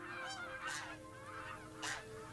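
Geese honk in open fields near Altenberg, two or three short nasal calls a second or so apart, moderately close over a low background hum, with no talking.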